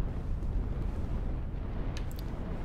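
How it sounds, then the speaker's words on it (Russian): An enemy blows itself up in Dark Souls 2: Scholar of the First Sin, a dense rumbling explosion that roars steadily for the whole stretch, loud and close, with a few faint high crackles near the end. "этот просто взрывается"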